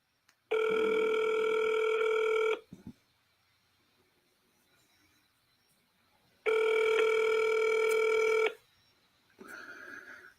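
A telephone rings twice on an automated call line, each loud electronic burst lasting about two seconds with a long silent gap between, followed by a short tone at the end.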